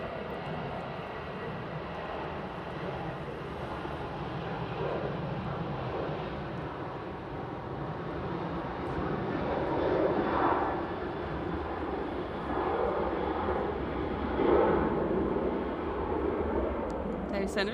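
A Ryanair Boeing 737 departs Manchester for Belfast as a steady, broad jet roar that swells midway and again near the end, with murmured voices beneath.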